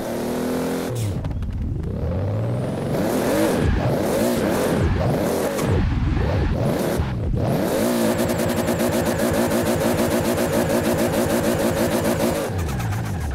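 A tuned Supra in Forza Horizon 4 revs hard and climbs through its gears, the engine note rising and dropping with each shift before settling into a steady, buzzing high-rpm drone; loud and close, with no talking.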